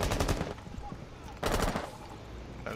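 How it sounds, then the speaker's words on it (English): Rapid automatic gunfire in a shooter video game comes in dense bursts with a short pause between, loud and continuous, with game effects mixed in. "I think you keep shooting at me."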